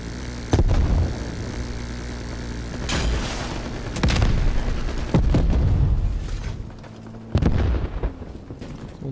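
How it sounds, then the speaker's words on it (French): Grenade explosions in the video game Call of Duty: Black Ops Cold War: several heavy, booming blasts go off a second or two apart over a steady low in-game hum. "Je lance une grenade."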